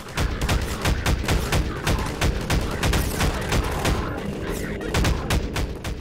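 A pistol fires rapid single shots in Half-Life 2, a fast, steady string of loud, sharp cracks heard up close and alone, with no talk.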